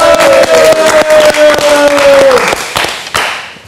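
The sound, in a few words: audience applause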